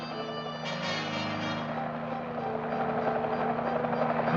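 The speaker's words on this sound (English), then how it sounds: "The noise you hear above us is an Army helicopter circling overhead." An Army helicopter circles overhead, its rotor thrum and engine whine continuous and fairly loud, with no voices.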